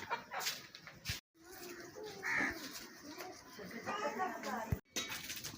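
Two pigeons cooing in a home coop near grapevines, soft repeated coos amid other birds and chickens, with a person talking throughout.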